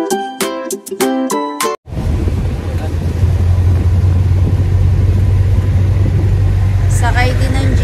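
Wind roars steadily past an open jeep riding on the road to a tour in Bagac, Bataan, a loud continuous rumble over the engine that follows a short stretch of music.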